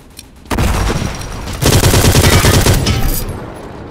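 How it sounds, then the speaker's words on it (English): Machine gun suppressing fire in the World War Heroes video game: a sharp opening burst, a brief pause, then a sustained rapid rattle of close, loud shots that fades slightly at the end. "Suppressing fire!"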